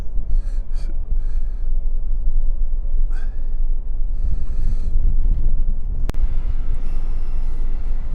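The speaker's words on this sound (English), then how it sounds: "it's getting windy up here." Wind buffets an outdoor microphone high up while leaving Birkenhead, a steady loud rumble with gusty bursts and some breathy noises throughout.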